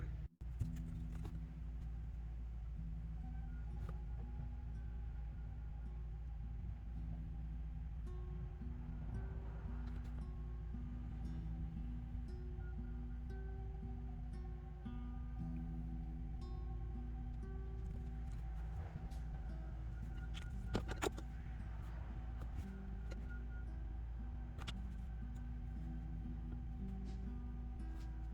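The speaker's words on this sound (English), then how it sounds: "pardon the traffic noises, but I'm outside letting the UV cure" A steady low rumble of road traffic outdoors, constant throughout with occasional faint passing swells and no talking.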